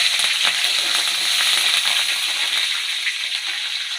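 Crackling sizzle of leaves dropped into hot oil, a dense, steady spattering hiss with sharper pops scattered throughout, close and loud.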